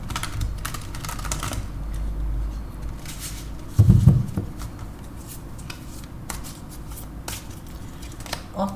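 Tarot cards shuffled by hand in quick, papery riffles and taps, close and fairly soft, with a louder burst of handling midway and no talk over it.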